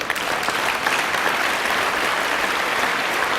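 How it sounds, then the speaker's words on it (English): Audience at a financial-industry conference breaking into applause, a dense, even wash of clapping from a large crowd, loud and sustained throughout. "I'd give him a round of applause for that too"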